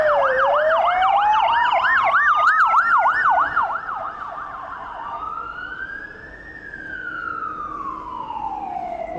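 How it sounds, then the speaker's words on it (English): Ambulance sirens wailing loud and close in busy city traffic in central Melbourne, a rapid yelping sweep giving way to a slower rising and falling wail over a steady road rumble, with no talking. "Ambulances."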